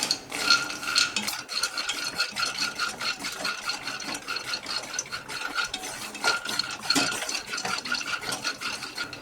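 Peanuts dry-roasting in a pan over a low flame are stirred steadily, giving a continuous scraping, rattling rasp of nuts and utensil against metal that stays close and fairly loud throughout, with no talking.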